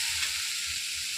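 Dried chillies, turmeric and salt frying in hot oil make a brief, steady, close hiss and sizzle with faint low stirring rumbles underneath.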